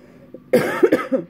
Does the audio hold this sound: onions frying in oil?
no